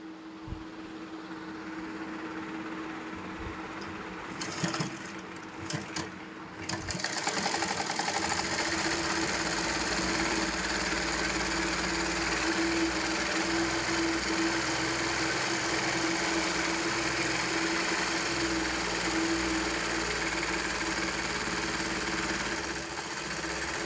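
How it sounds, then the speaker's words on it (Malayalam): A sewing machine runs steadily while stitching a pillow cover made from an old nightie, starting after a few brief handling clicks and then a continuous close, even motor hum with rapid needle chatter. "നമ്മളിവിടെ സ്റ്റിച്ച് ചെയ്ത് കൊടുക്കുകയാണ് ചെയ്യുന്നത്"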